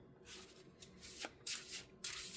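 Tarot cards shuffled by hand in a quiet room, several soft riffling bursts and papery rubs rising and falling across the clip, close and fairly faint, with no speech.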